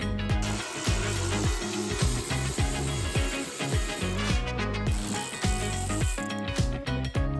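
A ratchet clicks away undoing bolts on the perished front wing of an Audi TT, its rapid pawl ticks coming in repeated bursts, close and fairly loud in a workshop.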